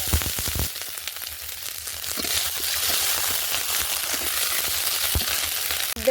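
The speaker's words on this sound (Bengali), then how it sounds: "তেল গরম হয়ে গেছে, ফোড়ন হিসাবে কালো জিরে আর শুকনো লঙ্কা দেবো।" Black cumin and dried chillies sizzling in hot oil, a steady loud crackling hiss after an initial clatter, continuous and close.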